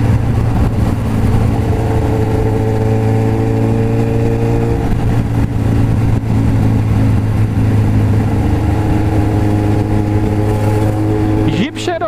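Suzuki GSX750F motorcycle engine running loud and close with a steady idle drone and uneven revs, under persistent talk, ending with a rising whine in the last second.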